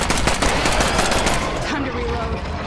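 Rapid automatic gunfire from the zombie survival video game State of Decay 2, a dense sustained burst of shots that thins out toward the end, loud and close.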